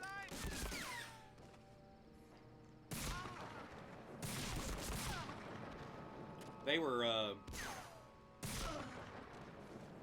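Gunfire from the World War II shooter game Medal of Honor: Frontline, with repeated loud bursts of shots and booms spread through the stretch, a distinct whistling effect in the middle, and someone talking between the shots.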